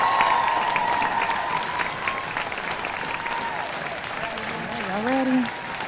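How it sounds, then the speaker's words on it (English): An audience at a high school sports scholarship and awards ceremony applauds steadily, a dense patter of clapping at moderate volume, with someone talking over it on a microphone. "Come on, can we start clapping right now?"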